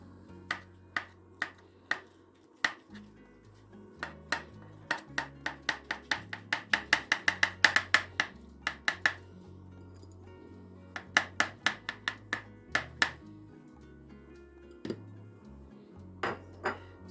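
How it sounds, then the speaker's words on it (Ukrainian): Boiled egg whites being chopped with a knife on a board, a long run of crisp, close knocks in quick bursts and steady rhythm, with short pauses between rounds. "а білки кришимо"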